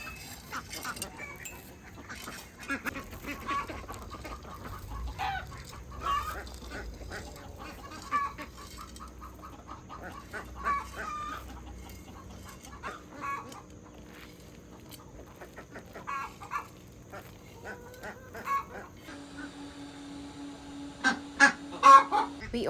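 Backyard chickens give scattered clucks and squawks near a pond and shaded trellis in summer, irregular and fairly close, with a louder flurry of calls near the end.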